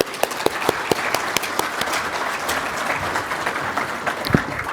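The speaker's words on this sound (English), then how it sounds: "let's give him a round of applause" Audience applause at a conference session on bringing children home, a steady wash of many hands clapping close by, dense and sustained with a few sharper claps standing out.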